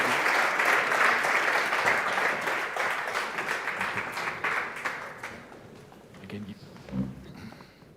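An audience at a startup presentation event applauds for several seconds, with dense, steady clapping that thins out and fades toward the end while a voice speaks faintly underneath.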